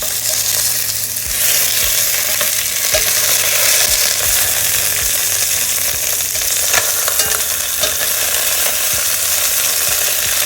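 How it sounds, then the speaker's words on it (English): Chicken pieces browning in avocado oil over medium-high heat give a continuous bright sizzle and crackle, with occasional scraping clicks of stirring throughout. "We're gonna brown the chicken pieces."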